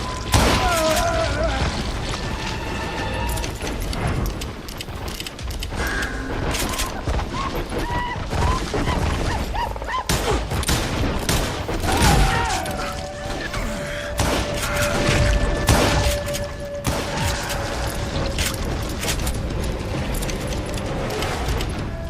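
Gunfire from Call of Juarez: Gunslinger, a Western shooter, comes as dense, loud repeated shots and booming blasts with crashes and thuds, while someone talks over the fighting.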